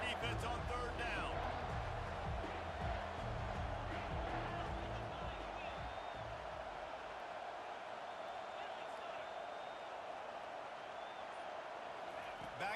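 Stadium crowd noise in the NCAA 25 college football video game, a dense steady roar rising on a defensive third down, with busier low rumble early and a broad sustained wash throughout.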